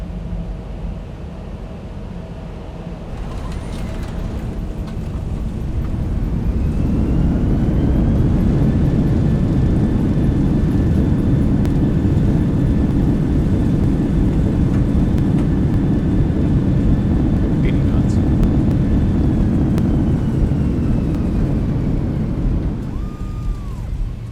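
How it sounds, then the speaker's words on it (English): A Boeing 737-800 lands in the X-Plane 12 flight simulator game, its engine roar swelling into a loud, steady rumble through touchdown and rollout, then easing off near the end. "Beautiful landing of the 737-800 right there."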